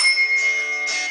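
A bell is struck and rings with a bright, sustained metallic tone, then a second strike near the end, loud and alone.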